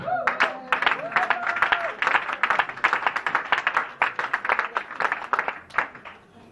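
A church congregation at a full-gospel tabernacle service claps loudly and steadily, a dense burst of many hands ringing out close and continuous, with voices mixed in underneath.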